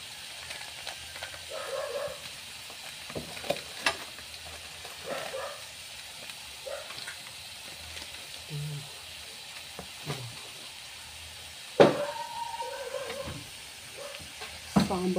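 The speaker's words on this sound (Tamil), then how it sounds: "தக்காளி வதங்கட்டும்." Tomatoes sauté in a pan with coriander, turmeric and chili powders, giving a soft, steady sizzle broken by occasional clinks and scrapes of a stirring ladle, close but fairly quiet.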